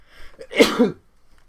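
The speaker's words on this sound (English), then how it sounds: "So I'm gonna sneeze." A single close sneeze, a short sharp burst with a breathy lead-in, then quiet.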